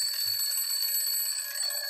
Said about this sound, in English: alarm bell going off